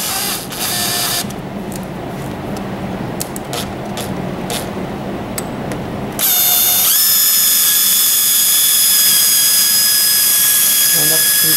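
A power drill fitted with a flathead screwdriver bit turns the roller mechanism of a massage chair: a steady mechanical drone for the first six seconds, then a louder high-pitched motor whine that holds to the end, with no talk.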